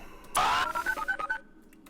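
Telephone dialing tones: a short burst followed by a quick run of about six beeping key tones, close and clear, then silence.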